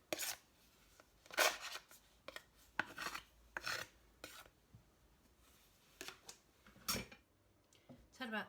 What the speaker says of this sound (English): Scrape round the sides of the bowl. and scrape off the scraper.